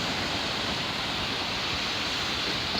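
Ocean surf at a beach in Taghazout, Morocco, a dense unbroken roar of breaking waves and wash, loud and steady throughout with no voices.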